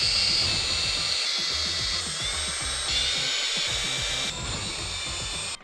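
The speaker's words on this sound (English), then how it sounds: "we just have to remove the 6 outer screws on the differential case" Small power driver removing screws from the differential case of a Traxxas Sledge RC truck, a steady high whine with quick rhythmic ticking, close and continuous with no talk.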